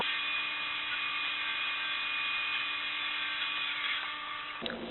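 A wood lathe spins steadily while a gouge, turned far onto its side, takes a peeling cut, producing a continuous close whirring hiss with no voices.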